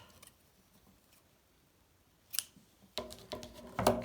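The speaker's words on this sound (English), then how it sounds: "cut the yarn" Scissors cut through crochet yarn up close, a few crisp snips arriving near the end after a quiet stretch, with no voices.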